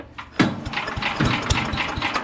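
A Tecumseh 5HP engine on a Troy-Bilt wood chipper vacuum catches after a pull, sputtering into uneven running with a few irregular firing knocks, close and fairly loud.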